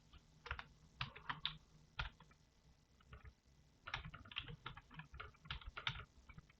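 Password typed on a computer keyboard, two quick bursts of close, crisp key clicks separated by a short pause, with no voices.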